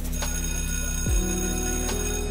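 A school bell rings with a steady, sustained metallic tone throughout, shifting pitch partway through, fairly quiet and with no talking.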